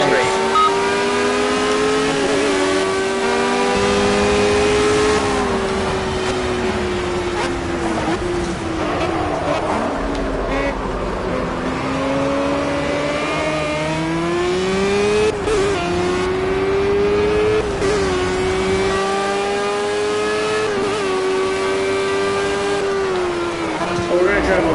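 Race cars in the Project Cars video game roar continuously, the engine note rising and falling through gear changes and revs as the car brakes for a corner and accelerates down the straight, loud and close throughout.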